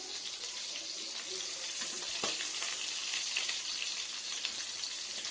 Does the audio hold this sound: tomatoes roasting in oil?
yes